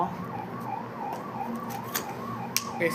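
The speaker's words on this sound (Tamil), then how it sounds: "ஆம்புலன்ஸ் சவுண்ட் கேட்குது எனக்கு." An ambulance siren wails in a steady rising-and-falling pattern, moderately loud and a little distant, with a few scattered background noises.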